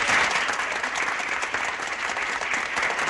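Sustained audience applause at a 1983 Soirée Canadienne community evening in Sainte-Geneviève-de-Batiscan, a dense, steady wash of many hands clapping throughout at a fairly close, even level.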